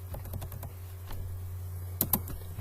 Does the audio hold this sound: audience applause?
no